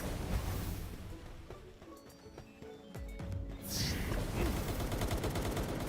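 Rapid bursts of gunfire from enemies in the video game Palworld, dense and continuous across the stretch, with a loud barrage building toward the end amid layered game effects.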